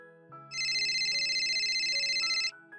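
A phone ringtone trills steadily for about two seconds, a bright electronic warble over a faint low hum, then cuts off abruptly.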